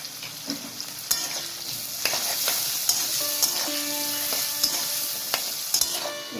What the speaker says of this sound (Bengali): এই দেখো আলুটা আমার লাল লাল করে ভাজা হয়ে গেছে